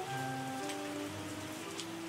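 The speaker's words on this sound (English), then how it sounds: "Nothing but rain." Steady rain falls throughout a winemaking tycoon video game, a constant soft patter alone under faint tonal game music, with no talking.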